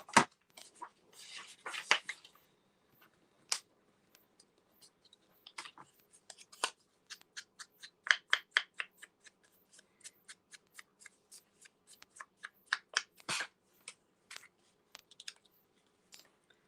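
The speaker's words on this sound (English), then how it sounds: "just cut it with scissors." Scissors cut paper for a mini album craft project, giving faint, close snips and crisp crackles in irregular bursts with quiet gaps between cuts.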